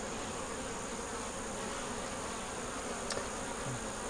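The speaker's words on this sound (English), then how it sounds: "Just watching this one bee." A single honey bee buzzes steadily around a nuc box hive. The drone is faint but continuous throughout.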